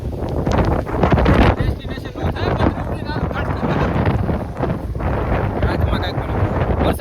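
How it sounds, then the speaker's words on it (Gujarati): Strong storm wind buffets the microphone in loud, gusting roars as light rain begins, with a voice talking through the blustery noise. "અત્યારે ધીમે ધીમે વરસાદ ચાલુ થઈ ગયો છે હજી પવન તો ઓહો"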